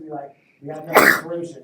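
A single sharp sneeze bursts out in a classroom during a radiology lecture, loud and close, sandwiched between stretches of a lecturer's ongoing speech.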